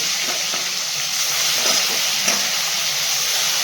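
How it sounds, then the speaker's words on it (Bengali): Oil-coated fish frying in hot oil gives a loud, constant sizzle with sharp spattering pops scattered through it, close by and without talk. "আর মাছ ভাজতে গেলে প্রচুর কিন্তু ফাটে"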